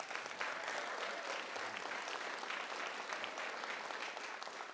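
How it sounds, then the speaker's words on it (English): An audience at an employee service award presentation gives a steady round of applause, soft and distant, with no talking over it. "So let's give him an applause for that."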